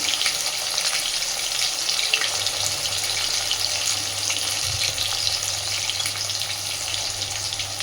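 Potatoes frying in a pan with a little salt sprinkled in, a steady loud sizzle that carries on unbroken, joined partway by a low hum.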